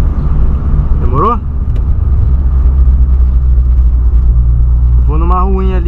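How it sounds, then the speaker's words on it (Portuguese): A Volkswagen Polo's engine holds a loud, steady low rumble throughout as the car is driven hard, with rising tonal sweeps near the start and end that suggest revving through gears; no talk is heard. "só escutando o ronco do carro"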